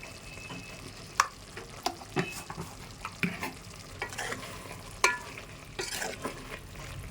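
A spoon slowly stirs chicken and drumstick curry in a pan, with soft scraping strokes and sharper clinks against the metal over a steady low sizzle of the simmering gravy, close and moderately loud.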